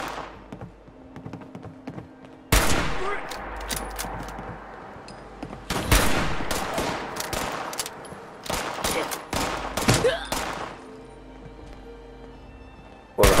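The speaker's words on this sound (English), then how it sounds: "a hunting rifle certainly takes him down faster" Hunting rifle shots in the video game Fallout 76, a run of loud, sharp cracks fired in quick bursts with short gaps, each leaving a brief ringing tail over a low game background.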